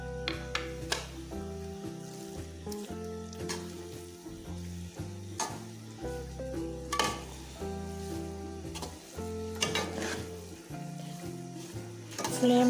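Khoya being stirred into carrot halwa in a pan, with steady scraping and a soft sizzle running throughout, punctuated by spoon knocks against the metal, close and fairly loud over faint background music.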